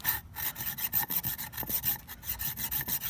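The titanium saw back of a Camillus Carnivore X machete notches maple wood in quick, light rasping strokes, each one rubbing close and clear, about three per second in a steady back-and-forth rhythm, with no talking.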